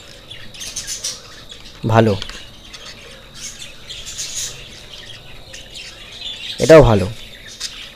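A budgerigar gives two sharp, loud squawks a few seconds apart over faint chirping and quiet household background, with a person speaking briefly.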